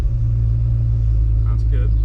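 A 1966 Ford Mustang with Sniper EFI idles with a deep, steady low rumble just after starting, loud and close, with a faint voice briefly over it.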